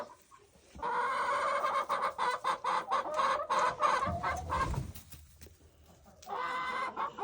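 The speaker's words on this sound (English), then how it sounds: "All the hens are greeting him, as you can see." Several hens cluck and squawk close by in a busy, overlapping chorus, then go quiet briefly before clucking resumes.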